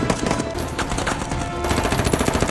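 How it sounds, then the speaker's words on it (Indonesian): Rapid machine gun fire rattles in continuous loud bursts during a film gunfight between a colonel's armed group and local police, dense and close with no pause. "di luar sudah terjadi baku tembak antara kelompok si kolonel dengan polisi setempat"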